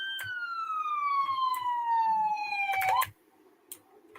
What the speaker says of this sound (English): code 3 is just full lights and sirens like this